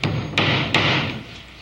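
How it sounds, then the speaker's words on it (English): Three sharp hammer strikes on a nail, evenly spaced and close, ring out over a steady room-tone hiss with no voices. "You were going to show me how to hammer a nail without hitting my fingers."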